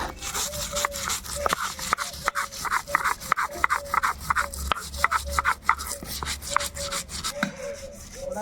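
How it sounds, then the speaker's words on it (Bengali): Salt and roasted dried chili are ground into a paste by hand. The grinding makes rhythmic rasping, scraping strokes at a steady back-and-forth pace, close and fairly loud. "লবণ শুকনো লঙ্কা পোড়ানো এটাকে সুন্দর করে বেটে নেব"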